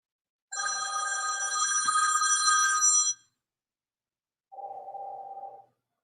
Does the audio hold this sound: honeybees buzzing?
no